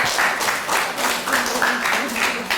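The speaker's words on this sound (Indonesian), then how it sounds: "berikan aplaus untuk" A classroom audience applauds a presenting group with a dense, steady wash of clapping that runs the whole time, mixed with some voices.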